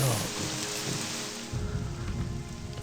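Steady rain falls in the video game Morrowind, a dense, even patter of raindrops on surfaces that continues throughout and thickens midway, heard alone without talk.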